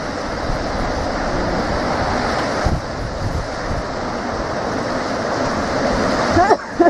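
Surf and gusting wind sweep Windy Harbour beach in a steady broadband wash, with waves breaking close by and a few louder buffets near the end.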